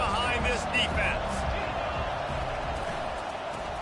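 A stadium crowd in the College Football 25 video game roars steadily during a big third down on defense, a broad, loud wash of cheering that holds throughout under commentator speech.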